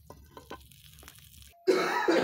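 Fried eggplant is lifted out of hot oil with a spatula: a few soft taps in near quiet, then a sudden loud, steady sizzling hiss close by.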